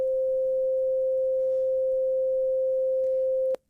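A pure sine wave tone with no overtones holds perfectly steady and clean for about three and a half seconds, then cuts off abruptly into near silence.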